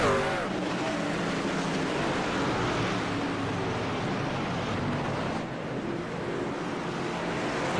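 Race cars in an iRacing eNASCAR event at Milwaukee Mile Speedway roar steadily around the oval past lapped traffic, a continuous dense engine drone that barely changes level.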